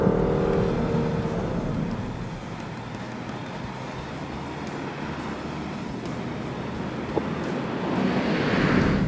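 A Lexus IS350 F-Sport sedan driven with the traction control off, its engine a steady rumble under heavy wind and road roar from inside the car, swelling slightly near the end, with no talking.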